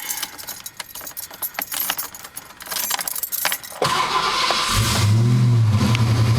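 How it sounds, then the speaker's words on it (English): Keys jangle and rattle near the ignition, then a 1991 Ford Mustang GT Foxbody engine cranks and catches, settling into a loud, steady rumbling idle. "let me step into the car and crank her up"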